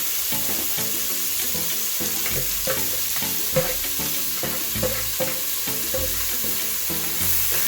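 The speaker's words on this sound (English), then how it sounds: "So we're gonna let our season cook for a while, cook in the oil." Seasoning frying in hot oil in a pot for a one-pot leftovers meal, a steady close sizzle with repeated stirring clinks and scrapes throughout, no talking.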